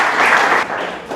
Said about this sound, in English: Can we have a round of applause for Les?